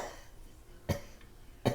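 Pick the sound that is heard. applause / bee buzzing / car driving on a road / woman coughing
woman coughing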